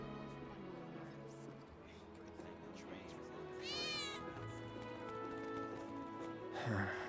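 A cat meows in a Final Fantasy VII Remake playthrough, with one clear rising-and-falling meow near the middle and another short cry at the end, heard over game music and ambience.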